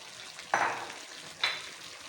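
Potatoes and chicken for a chicken biryani frying on high heat, with two short, loud bursts of sizzling and stirring, about a second apart, over a quiet background.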